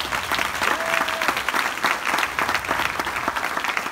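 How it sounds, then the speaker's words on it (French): A conference audience applauds continuously, the clapping swelling and fading slightly, with a faint brief tone sounding early on. "On peut applaudir."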